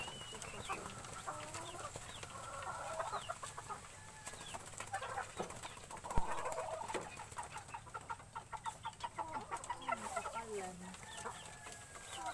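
A flock of chickens clucks busily nearby while being fed, calls overlapping continuously, with occasional wing flaps and soft rustling.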